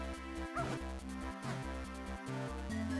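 Chiptune-style dog barks from The Legend of Zelda: The Minish Cap, a few short yips over continuous looping game music, clear and close.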